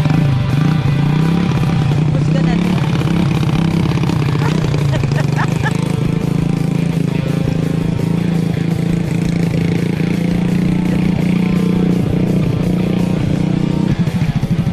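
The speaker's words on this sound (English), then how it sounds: "Motorbike." A motorcycle engine runs loud and steady at a vehicle meet in Jõgeva, a close, continuous rumbling drone that lasts throughout without a pause.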